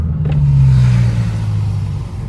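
BMW M6 engine idling and revving, a deep close rumble with a brief blip near the start, settling into a steady low burble, loud and without talking.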